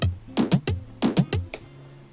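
Drum toms built from a processed cat meow sample, hit in a repeating pattern of pitched booming thuds with short tails, roughly two bars of punchy strikes played alone and close.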